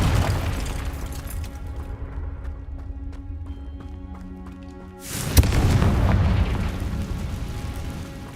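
In the video game Hogwarts Legacy, a Confringo blasting spell goes off as one loud, sudden explosion that booms and rumbles on for several seconds. Quieter game ambience and faint tones come before it.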